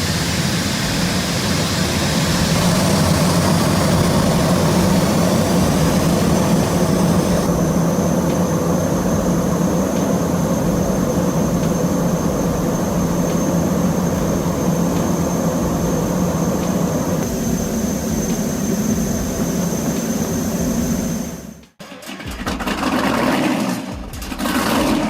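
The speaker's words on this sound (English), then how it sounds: "roaring beneath its deck, the R142 yacht doesn't sail, it charges." The R142 yacht's engine roars loud and steady for about twenty seconds, a dense continuous rumble that then cuts off abruptly, leaving brief scattered noise.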